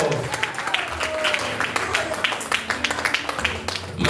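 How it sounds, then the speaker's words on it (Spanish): Congregation at a Spanish-language church gathering claps in an uneven, moderately loud burst of applause, with individual hand claps standing out and some voices mixed in. "Dale un fuerte aplauso a la misericordia de Dios."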